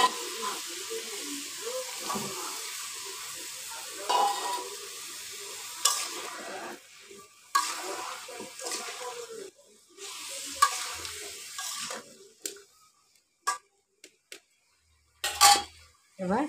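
Raw sweet pumpkin pieces sizzle and fry in a pan while being stirred, with repeated scraping and clinking of a utensil against the pan, irregular and close, fading to near silence toward the end.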